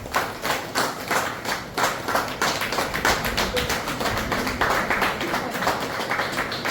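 Seniors at a women's upliftment senior citizens club in Nadiad, celebrating Raksha Bandhan, clap together in a steady, rhythmic beat, moderately loud and alone with no talking over it.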